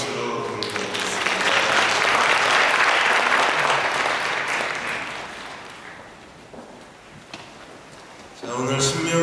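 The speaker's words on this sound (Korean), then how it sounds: "우리 잘 갔다 오라고 박수로 공개하겠습니다." A church congregation claps together, a loud dense burst of applause that swells and then fades over several seconds, with a voice speaking briefly near the end.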